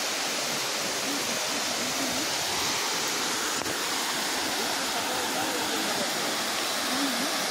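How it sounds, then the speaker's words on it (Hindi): A waterfall in Similipal National Park roars as a dense, constant wash of rushing water, loud and close, with a voice faintly under the roar. "तो ये देखंतु आमे एबे व्हिस्की वाटरफॉल पाखरे पहुंची जाइछु"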